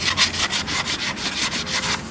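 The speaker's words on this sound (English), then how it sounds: "take the sanding sponge and just go ahead and do it" Rhythmic scratchy rubbing strokes, about a dozen quick back-and-forth passes of a sanding sponge against a factory car wheel's curb rash, close and steady.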